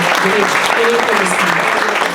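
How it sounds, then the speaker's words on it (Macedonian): Audience clapping at a nurses' symposium, a dense sustained round of applause with a few voices mixed in. "еден огромен аплауз за нашите"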